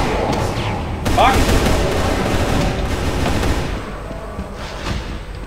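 Gunfire from live ammunition in Brutal Doom, loud dense shooting running through most of the stretch, with a voice talking over it.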